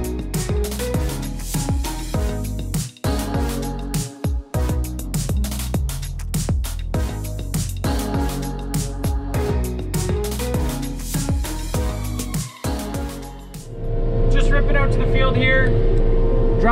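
Tractor-style engine hum of a dual direction hay swather driving forward, steady and close with rattling machinery, then a smoother whining drone near the end.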